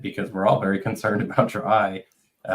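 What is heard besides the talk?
No everyday noise stands out behind the speech.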